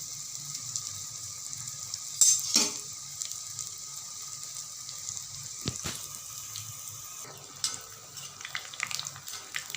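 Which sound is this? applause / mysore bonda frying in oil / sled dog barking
mysore bonda frying in oil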